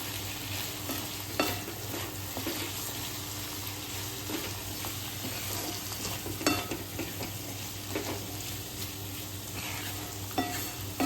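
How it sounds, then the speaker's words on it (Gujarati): Corn and millet flour tossed with vegetables in a pan for a Gujarati breakfast dish, a quiet continuous scraping and stirring with faint sizzling underneath and a few sharper spoon knocks against the pan. "હવે આપણે બધી સામગ્રીને ફરી મિક્સ કરી લઈશું"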